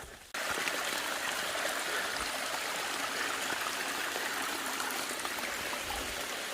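Steady water flows and trickles close by along a hiking trail, a continuous babbling rush that starts abruptly and holds constant throughout, with no talking.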